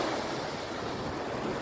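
Ocean surf at Mount Lavinia beach in Sri Lanka, a loud, continuous wash of breaking waves mixed with wind noise buffeting the microphone, with no voices.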